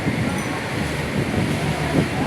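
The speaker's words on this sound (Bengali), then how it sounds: "খাওয়া দাওয়ার পরে জোরে বৃষ্টি হচ্ছে" Dense, steady roar of heavy rain with gusty wind noise, continuous and fairly loud, no clear voices.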